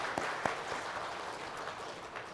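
Brief round of congregational applause in a Korean Sunday church service after a choir's hymn, fairly faint and soft, with a few sharper claps standing out early.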